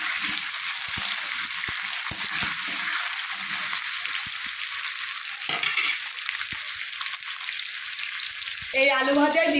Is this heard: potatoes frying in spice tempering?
yes